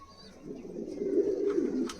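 Long-bodied Chini Kaldoma pigeons coo softly at close range in a loft, one brief low murmuring phrase rising and fading with a faint chirp near the end.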